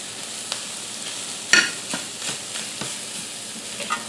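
Loose chicken cheesesteak meat with seasonings toasting in a hot pan, a soft continuous sizzle broken by a few light stirring scrapes and taps.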